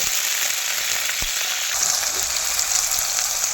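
Beans sizzle steadily in a hot pan, a constant crackling hiss with a brief clink of utensils partway through.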